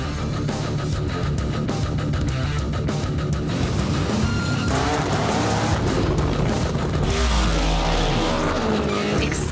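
Hoonigan project cars race in The Crew Motorfest video game, with loud revving engines, gear shifts and tire squeals under game music, and a heavy low burst near the end.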